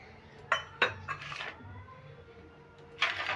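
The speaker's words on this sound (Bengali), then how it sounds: "এবার সমস্ত উপকরণগুলো আমি মিশিয়ে নিচ্ছি ভালো করে" A spoon clinks against a bowl while flour, semolina and rice flour are stirred into batter for gur pitha, with a few sharp, close knocks spaced out over quiet scraping.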